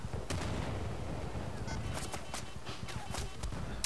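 Heavy machine gun fire in the video game Battlefield Bad Company 2, a dense stream of sharp shots and bursts heard continuously over a noisy battle background.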